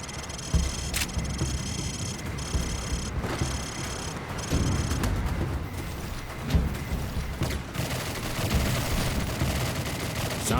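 Gunfire from a shooting range in Call of Duty 4 rolls on for the whole stretch, with dense overlapping shots, bursts and mechanical clatter at middle distance and no talking.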